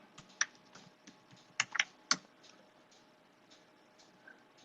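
Someone types a password on a computer keyboard while installing OpenCore on a classic Mac Pro, producing a few sharp, close key clacks in brief bursts separated by quiet pauses, with no speech.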